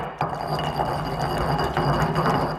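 Pestle grinding and squashing food in a large mortar, a continuous gritty rasping and clicking scrape, close and fairly loud, with no talking.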